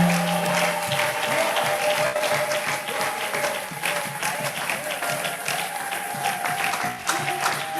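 A church congregation claps and cheers in praise of Jesus, a dense, sustained wash of applause filling the room for several seconds, with a faint tone and voices mixed into the crowd noise.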